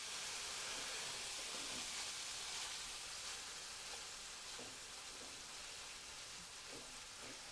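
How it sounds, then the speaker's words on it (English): Hamburger meat for sloppy joes sizzles in a frying pan, a soft continuous crackling hiss with occasional light pops, fairly quiet and steady with no voices. "Cindy's getting the burger ready for the sloppy joes"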